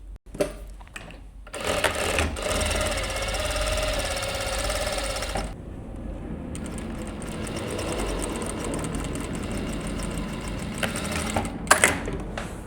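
A sewing machine stitches pocket bags to a skirt at a 1 centimeter seam, running in a rapid steady whir for several seconds, pausing, then sewing again before a few clicks at the end.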